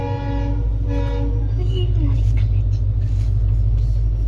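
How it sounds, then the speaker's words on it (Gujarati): A train horn sounds and the train rumbles past a closed railway level crossing on the road to Kagvad, loud and steady near the listener, with a voice speaking briefly over the passing cars. "હવે ટ્રેન આવે છે એટલે ફાટક બંધ થઈ ગઈ છે"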